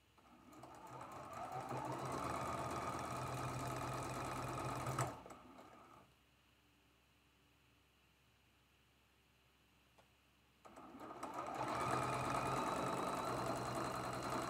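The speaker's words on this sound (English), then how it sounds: "we're going to sew this seam just like our normal four patch" A sewing machine stitching a quarter-inch seam on a traditional quilt block, a close steady mechanical whirr in two bursts separated by a few seconds of near silence.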